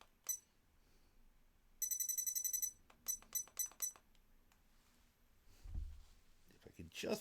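Repeated electronic beeping, a rapid burst of bright tones lasting under a second followed by several separate short beeps, set among clicks and a voice speaking in the background.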